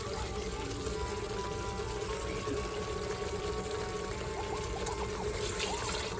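Water is poured from a cup into a pot of soaking rice while cooking spinach rice (palak pulao), about two and a half cups in all: a steady, close trickle and splash that runs without a break and has no talk over it.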